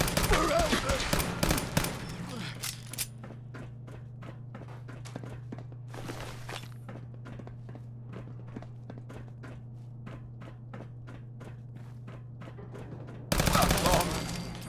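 Weapon fire in Fallout 4 cracks in a dense loud burst at the start. A long stretch of sparse, evenly spaced single shots and steps follows over a steady hum, then another heavy volley erupts near the end.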